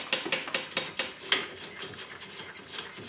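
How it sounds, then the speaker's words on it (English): A ratchet spins off a strut nut during front strut replacement on a Chevy HHR, giving a quick run of six or seven sharp metallic clicks up close, then softer rattling, with no talking. "At this point, we can remove the nut."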